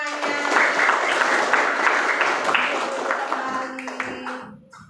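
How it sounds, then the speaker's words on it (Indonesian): Group of students or participants in a classroom session clapping together, a loud, dense burst of hand claps that holds steady and then tapers off, with a faint tone or voice beneath. "Oke, tepuk tangan semuanya"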